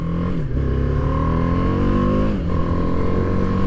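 A 2023 BMW G310R motorcycle engine revs up through the gears accelerating from a stop, its pitch climbing, dropping at a shift, then climbing again, loud and close.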